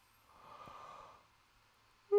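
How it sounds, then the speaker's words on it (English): A single drawn-out human yawn, soft and breathy, rising then fading over about a second in quiet surroundings, followed by a brief sharp tonal blip at the end. "You can hear him yawning."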